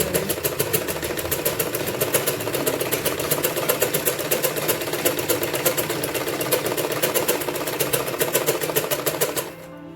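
A sewing machine runs steadily while stitching the side seam of a salwar, its rapid even needle clatter continuing for nearly ten seconds before stopping abruptly.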